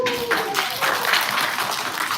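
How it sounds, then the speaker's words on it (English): Audience applause at a Saigon music-platform launch event, a steady wash of many hands clapping for about two seconds, with a brief tonal cue fading out near the start and no voices on top. "Another round of applause for Mr. Kim Pan, please"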